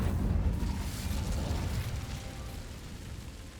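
Incendio fire spell cast in Hogwarts Legacy, a whooshing burst of flame that starts strong and slowly fades as a steady roaring hiss, heard alone.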